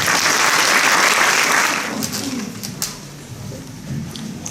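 Applause from an audience at a school charity concert, loud at first and then thinning to scattered clapping, with faint bird cooing in the background.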